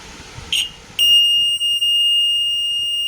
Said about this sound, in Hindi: ये स्पीकर है जी वो अलार्म सिस्टम के साथ लगाने वाला